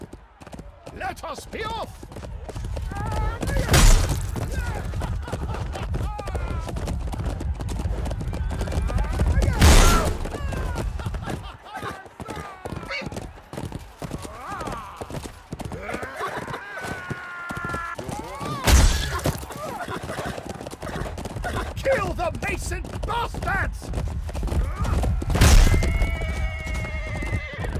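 Horses in the Chivalry 2 video game neigh loudly several times between thudding hoofbeats and a busy battle din, and a voice shouts under the noise.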